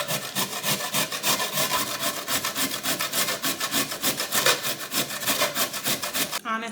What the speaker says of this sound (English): So now that I have my carrots, I'm going to grate them to this side.